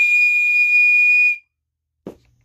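A steady, loud engine whistle from a cartoon tank engine toots for over a second, then cuts off; a brief low thump follows after a short silence.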